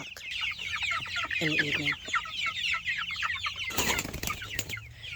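A flock of five-week-old Freedom Ranger meat chickens clucks and peeps busily nearby, with a burst of wing flapping toward the end and a voice speaking briefly over them.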